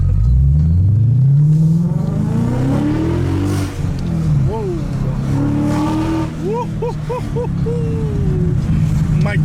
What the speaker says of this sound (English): You just never get over a V8 sound.